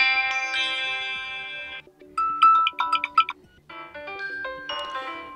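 Preset ringtones on a Samsung Galaxy M01 Core phone play one after another: sustained synthetic melodic tones, then a bright plinking chime pattern, then another layered electronic tune. All are clear and close, with no talking.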